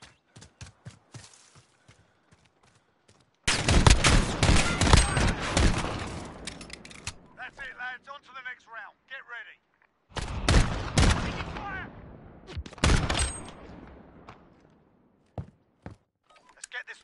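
Heavy gunfire comes in two long, loud bursts of rapid overlapping shots and thuds, with scattered single shots and quieter gaps between them and a voice heard amid the shooting.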